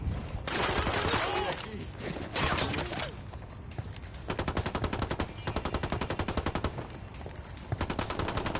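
Rapid automatic gunfire bursts from a Tom Clancy's Ghost Recon open beta firefight, loud and sustained with short pauses between volleys, mixed with game voices and shouting.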